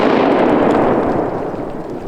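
A loud shotgun blast rings out outdoors during a duck hunt, followed by a rumbling echo that fades away over a couple of seconds.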